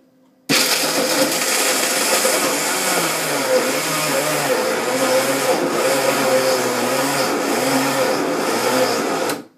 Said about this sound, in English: Oh my god, the blender was actually moving.